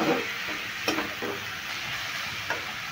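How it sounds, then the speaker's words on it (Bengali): Semolina filling ingredients sizzle in a frying pan as they are stirred, a steady hiss with a few light scraping knocks of the spoon. "এবার সমস্ত উপকরণগুলো আমি ভালো করে নেড়ে নিচ্ছি"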